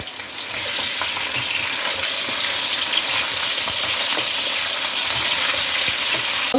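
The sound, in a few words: beef frying in oil in a pot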